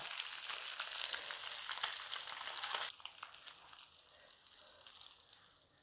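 Chicken pieces deep frying in hot oil sizzle loudly and steadily, the hiss dropping sharply to a quieter, crackling fry about halfway through as the pieces are lifted out.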